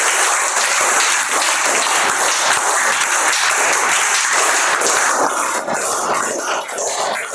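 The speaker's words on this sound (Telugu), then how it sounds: "క్లాప్స్ గట్టిగా." An audience claps loudly and continuously, a dense, steady wash of applause that holds at full strength throughout, fading only slightly near the end.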